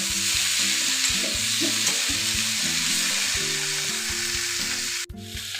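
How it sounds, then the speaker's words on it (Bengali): Spices sizzle and fry with mixed vegetables and chopped tomato in a pan, a steady close crackle under a quiet musical background that cuts briefly near the end. "টমেটো কুচি সব একসাথে দিয়ে আমি ভালোভাবে সবজির সাথে মশলাগুলো কষিয়ে নেব"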